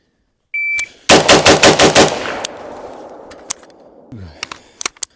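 Rapid string of about seven rifle shots fired during a target transition drill at a range, sharp close cracks with echoing tails, followed by scattered clicks and handling noises.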